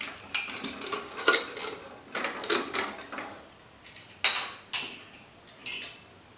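A pressure cooker holding soaked green peas is opened after its steam has been released: a string of close metallic clanks, clicks and lid scrapes arrives in short irregular bursts, with no one talking.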